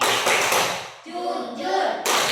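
A group claps out the rhythm of the Indonesian tepuk sifat wajib Rasul clapping game, with bursts of hand claps at the start and end and chanted voices in between.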